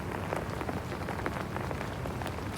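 Steady rain pattering on surfaces in an audio drama set on a city street at night, a dense even hiss of drops throughout with no voices.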